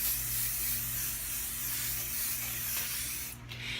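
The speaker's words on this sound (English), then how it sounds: "I'll just spray it for you guys so that you can see how amazing this is." A cosmetic vapor spray releases a steady, fine hissing mist for several seconds, close and even, before cutting off.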